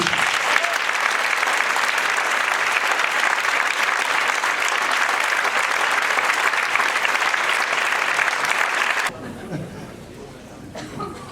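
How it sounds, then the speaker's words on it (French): A large conference audience gives loud, sustained applause to welcome a speaker, with scattered chatter and chuckles mixed in. The clapping dies away near the end and leaves quieter room noise. "Je vous demande d'accueillir, non pas chaleureusement, mais sous un tonnerre d'applaudissements, Monsieur Claude Nicollier."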